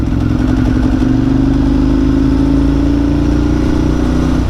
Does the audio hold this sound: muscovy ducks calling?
no